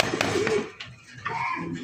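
Pigeons coo nearby: a short, soft, low throaty call stands out early, followed by quieter bird sounds and some rustling.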